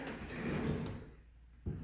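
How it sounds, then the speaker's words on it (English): A bathroom pocket door sliding along its track in a house, a quiet rolling rumble that fades out before ending in a soft bump. "And this bathroom here also has a pocket door"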